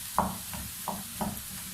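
Potatoes frying in a pan with spices, stirred in a few quick scraping strokes, one roughly every third of a second, over a soft steady sizzle, close and fairly quiet, with no talking.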